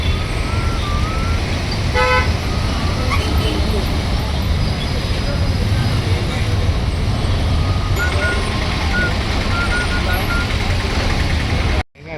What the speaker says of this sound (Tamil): பயங்கர டிராஃபிக்குங்க.